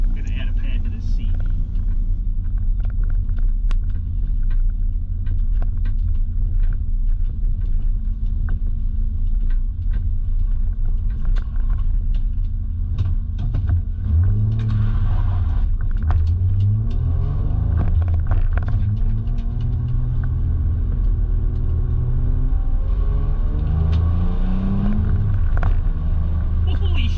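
A car idles and rumbles low inside the cabin, then the engine revs and pulls away as the driver shifts into third gear, with the engine note rising and falling. People talk over it.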